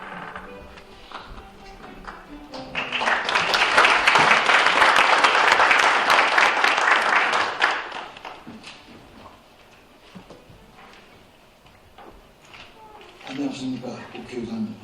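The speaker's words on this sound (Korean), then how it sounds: "다시 한번 큰 박수로 맞아주시기 바랍니다." Audience applause at a policy forum on disaster relief and regional recovery swells into a dense, sustained round of clapping, then fades as an announcer's voice continues over the hall.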